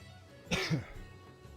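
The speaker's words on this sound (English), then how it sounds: "Lord, I has a cough." A single harsh cough with a throaty rasp, close to the mic, followed by quiet room noise.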